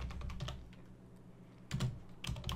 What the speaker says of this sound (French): Je vais venir taper public void